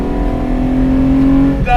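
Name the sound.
1975 Lancia Stratos HF Group 4 accelerating from 45 to 55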